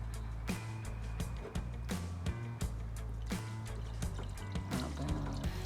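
Coolant poured into a car's radiator or reservoir while preparing the car for winter, a close, steady glugging trickle with repeated gurgling bursts as the liquid fills.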